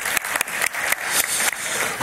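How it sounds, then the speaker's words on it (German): Applause breaks out for a colleague during a software development talk, steady clapping from a modest crowd at moderate loudness, continuous with slight swells. "Applaus für den Kollegen"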